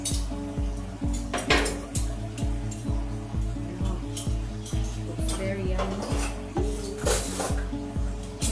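Cooked silverside corned beef being stirred in a pot, with a steady rhythm of utensil scrapes and clinks against the metal and a soft sizzle underneath, close and continuous.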